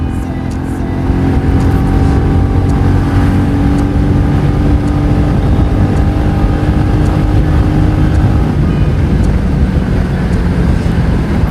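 A Royal Enfield Meteor 350 motorcycle pulls hard in fourth gear, its engine a steady loud drone with sustained harmonic tones close by, continuous throughout with no talking.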